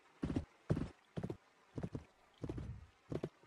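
Hooves from a horse in the Roblox Western game clip-clop in six distinct, evenly paced steps, close and fairly quiet, with no talk over them.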